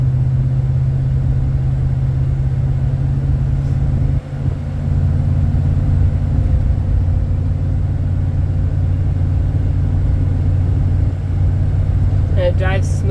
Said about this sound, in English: right off the bat, it's got a good acceleration and the motor sounds good